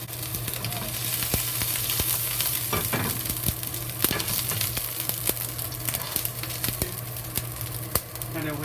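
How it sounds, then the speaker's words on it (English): Chopped ginger fries in hot oil in a wok with a steady, close sizzle and crackle, broken by sharp clicks of stirring, with no talk. "When the oil is hot, and we add a little chopped ginger into it."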